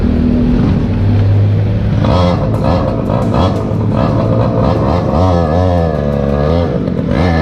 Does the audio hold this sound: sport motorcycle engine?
yes